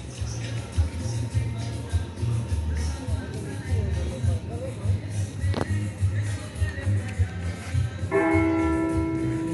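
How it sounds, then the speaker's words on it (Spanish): Church bells in Rosario de La Paz, El Salvador, begin ringing near the end with bright sustained tolls after a stretch of outdoor ambience, shuffling and a sharp tap. "Ahorita van a sonar las campanas de la iglesia ahorita."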